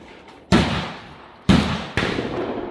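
A muzzleloader rifle shooting 420-grain bullets at a 100-yard range: three loud, sharp reports, the first two about a second apart and the third following quickly, each booming out with a lingering outdoor tail.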